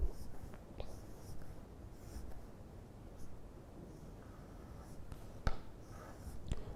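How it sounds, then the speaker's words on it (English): A pen scratches faintly across paper while contour lines are sketched on a site drawing, a quiet, continuous rasp with a couple of sharp taps. "I am just drawing on this part of the drawing"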